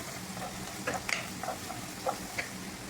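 Garlic frying in a pan, a low steady sizzle with scattered faint pops and stirring clicks, fairly quiet and without talk.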